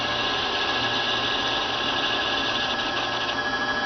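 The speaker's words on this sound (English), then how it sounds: "the bobbin will stop spinning, but you will still hear the motor running and you will have to hit the stop button" A sewing machine motor keeps running after the bobbin stops winding, a steady close mechanical hum with no talk.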